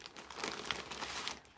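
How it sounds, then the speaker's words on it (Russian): A plastic IKEA zip bag crinkles steadily as it is handled up close, giving a continuous rustle with sharper crackles throughout. "И вот так вот складываю я их стопочки в пакетик"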